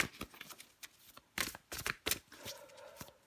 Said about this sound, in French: je prends encore une carte pour vous